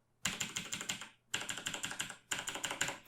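Quick bursts of typing on a Razer BlackWidow Elite keyboard with green mechanical switches, close and fairly quiet, with three clustered runs of thumpy keystrokes separated by short pauses.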